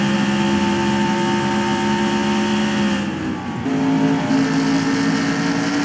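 NASCAR stock cars in the NR2003 racing game, green-flag running at a mock 2018 Pennzoil 400, drone loudly and steadily, with a brief dip and a shift in engine pitch midway as cars pass close by.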